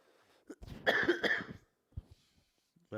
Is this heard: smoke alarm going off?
no